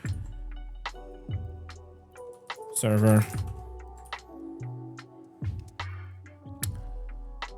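Keys clatter on a computer keyboard in short, uneven bursts of close clicks, with someone talking over and between them.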